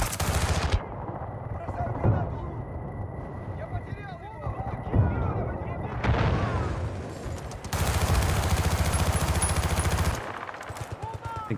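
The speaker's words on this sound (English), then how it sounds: "There's a grenade coming." Loud blasts from a grenade in the Battlefield 6 multiplayer video game, one burst near the middle and a longer roar later, set among rattling automatic gunfire and other battle noise.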